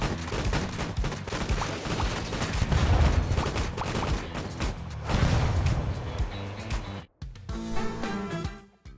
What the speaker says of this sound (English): Probably be shooting at the guy with low health